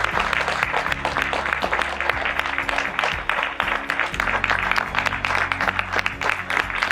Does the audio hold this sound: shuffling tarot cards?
no